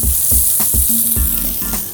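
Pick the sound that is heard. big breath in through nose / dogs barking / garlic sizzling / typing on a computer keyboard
garlic sizzling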